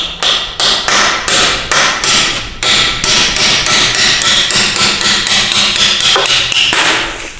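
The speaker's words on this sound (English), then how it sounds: "I like to take my punch and tap on the dowel pins to help jar the two halves into two pieces" A hammer strikes a big punch set against a dowel pin on a 1997 Ford F350 ZF5 transmission case, about twenty sharp metallic taps in a steady, even rhythm, loud and close with no talk.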